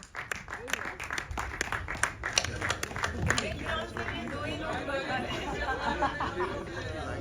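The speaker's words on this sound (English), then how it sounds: "Everybody, give them a big round of applause" Applause breaks out at a press conference, a burst of sharp claps in the first few seconds that gives way to a steady blend of clapping and crowd chatter.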